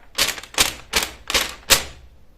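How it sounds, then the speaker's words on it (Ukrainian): A sheet of paper struck or shaken as a rhythm instrument in a kindergarten music lesson, giving five sharp, crisp papery slaps at an even, steady beat, close and fairly loud with no talking. "На папірці буду грати саме так."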